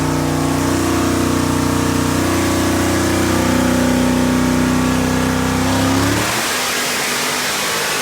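A drag car with a Neil Chance 4,000-stall torque converter and a Rossler Turbo 400 transmission, strapped to a dyno, holds a loud sustained engine roar that climbs steadily in pitch, then cuts off sharply near the end, leaving a faint hiss.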